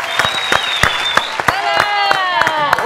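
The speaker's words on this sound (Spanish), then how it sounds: "Fuerte aplauso, bienvenido a Candelaria y a Sherman Zap" Studio audience applause welcomes guests onto a television show, loud clapping with sharp individual hits under a bright sustained musical or vocal tone and lively crowd noise.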